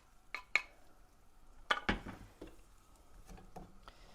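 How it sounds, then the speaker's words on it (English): Sliced onions dropped into a frying pan for chicken livers, heard as a handful of sharp clinks and knocks of utensil on pan, spaced irregularly and fairly close, with quiet gaps between. "I'm going to put the onions straight in the pan."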